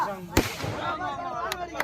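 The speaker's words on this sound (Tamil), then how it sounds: "யாரா எனக்காக வெடி விடுறது?" Firecrackers set off at a Tamil street-theatre (therukoothu) performance: one sharp bang, then two lighter cracks, over a steady background din.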